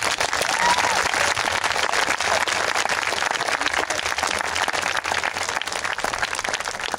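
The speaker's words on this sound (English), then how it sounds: "I think our staff and the adults that helped out, a round of applause" Loud, sustained applause from a school community crowd honouring staff and adult helpers at a legacy night, dense clapping running steadily throughout with no talk over it.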